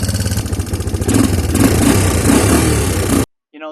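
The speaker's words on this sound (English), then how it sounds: "It does have a little valve clatter, but I think we can just, I'm hoping we can just tighten them up" A Timberwolf 250 ATV engine idles with a light valve clatter, a close, steady pulsing putter that rises slightly after a second, then cuts off abruptly with a short faint sound after.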